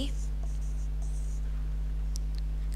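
A pen or pencil scratches words onto paper in short, faint strokes at close range, over a constant low electrical hum, with no speech.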